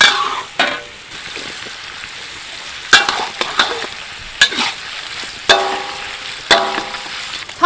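Beef stir-frying in hot oil in a wok with ginger and garlic just added, a steady loud sizzle broken by repeated sharp clinks and scrapes of the spatula against the pan, no voices.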